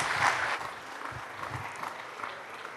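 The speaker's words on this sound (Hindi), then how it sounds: "जोरदार तालियां जेपी नड्डा जी को" A gala session audience at the India Today Conclave applauds BJP chief JP Nadda, a dense, steady clapping that stays even and fairly loud throughout without pause.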